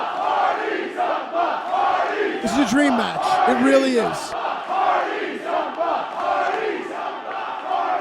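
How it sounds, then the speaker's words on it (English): A packed wrestling arena crowd roars and chants steadily, loud and continuous, with a commentator talking over the noise throughout. "Listen to this crowd here tonight."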